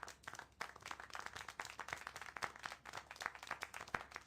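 Steady hand clapping in the video game Syberia: The World Before, many quick claps at an even rapid rhythm, fairly close and continuous for several seconds with no talking.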